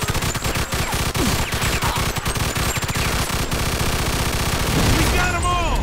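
Rapid automatic gunfire from a Mafia II gunfight, dense bursts of loud shots crackling for several seconds before easing off, with game sounds and a voice in the mix.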